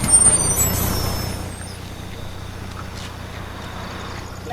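A road vehicle pulls up and stops, with a burst of air-brake hiss at the start that fades into a steady low engine idle.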